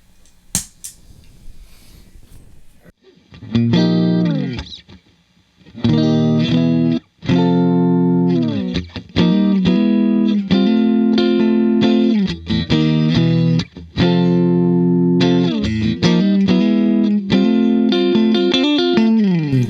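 Electric guitar through a PRS optical compressor pedal playing chords and riffs with a smooth, evened-out compressed tone, steady and sustained, after a brief quiet start; no talking.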